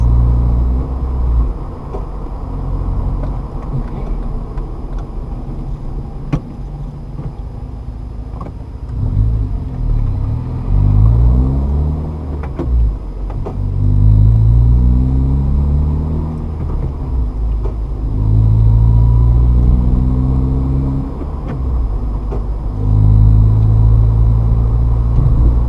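A manual-transmission car's engine hums low, then rises through several revving swells as the gas is pressed for upshifts, with the pitch climbing and dropping between gear changes, steady and close throughout.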